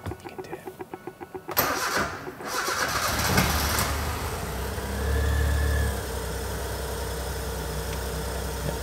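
A Suzuki Cappuccino's small engine cranks with a fast starter chatter, then catches and fires, rising briefly before settling into a steady idle, heard up close in a workshop with no talk.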